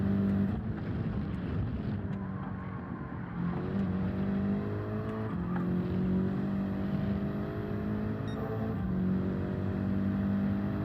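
A race car engine in Gran Turismo 7 revs hard under throttle, its harmonics climbing through the gears in a loud, continuous drone that shifts pitch with each upshift.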